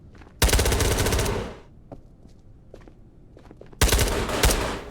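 Automatic gunfire in the VR shooter Ghosts of Tabor, set in Chodov Mall: two loud, close bursts of rapid shots separated by a quieter pause with faint shuffling.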